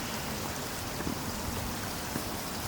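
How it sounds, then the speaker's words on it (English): Steady rain falling outdoors, a continuous broadband patter with occasional louder drops, moderately loud and alone with no voices over it. "the rain's coming down"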